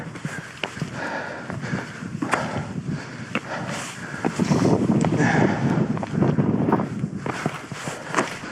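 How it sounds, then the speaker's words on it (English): Strong wind gusting over an exposed mountain ridge, buffeting the microphone in a continuous rough roar that surges louder midway, with scattered footsteps or knocks beneath it. "Oh, it's windy."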